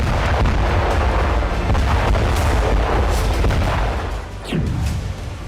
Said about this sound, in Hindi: यूक्रेनी फोर्स ने बेल्गोरोद में एक के बाद एक कई स्टॉर्म शैडो मिसाइलें दागी